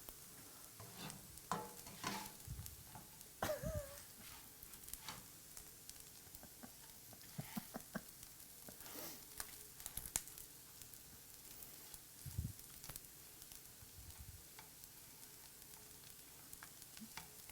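Sausage slices frying in a pan, a quiet steady sizzle with scattered pops and the clack of stirring or flipping, low and close.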